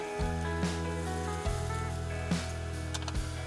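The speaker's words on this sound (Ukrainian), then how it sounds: "На змащену олією сковорідку видавлюємо часник." Pressed garlic sizzles in an oiled frying pan, a close, bright crackle with several soft thuds and clatters of a utensil against the pan spaced through the sizzle.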